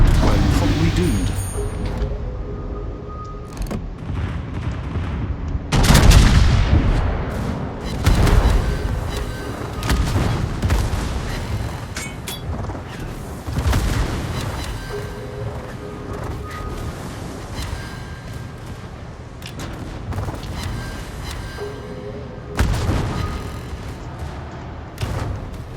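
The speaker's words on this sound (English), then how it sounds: "we're being shot at and getting hit" Naval gunfire strikes ships in a World of Warships battle: repeated booming impacts and shell blasts of varied loudness over a rumbling background, with someone talking intermittently throughout.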